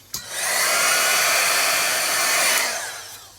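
A hair dryer switches on with a click and blows a steady, loud whooshing hum while drying paint on an art journal page, then winds down near the end.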